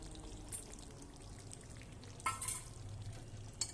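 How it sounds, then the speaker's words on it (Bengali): Chopped green chillies tipped into chilli chicken gravy frying in a pan and stirred through, a close, steady sizzle with a couple of brief splashy bursts as they go in, with no talking. "দিয়ে ভালো করে একটু নেড়ে নেব।"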